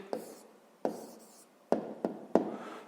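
Pen or marker strokes on paper while a maths answer is written down, five short scratchy bursts in an uneven rhythm, close and fairly quiet, with no speech.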